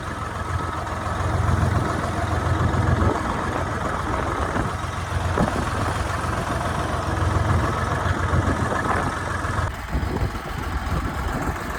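An old Swaraj 855 tractor engine runs at a steady idle of around 800 RPM on a farm field, giving a continuous, loud, close diesel rumble with a slight shift in tone near the end.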